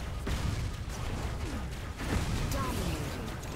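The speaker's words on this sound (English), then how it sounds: "Explosions." Muffled explosions boom and rumble in a dense, noisy Robocraft game soundscape, with a couple of sharper bursts standing out over continuous crackling.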